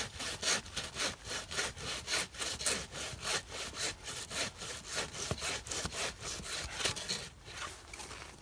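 Handsaw cutting through a tree trunk during felling, a steady rhythmic back-and-forth rasp of roughly two strokes per second, close and continuous.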